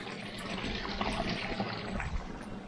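Dark, tea-coloured water of a small taiga forest stream trickles and burbles close by, a soft, steady liquid wash with no other sounds over it.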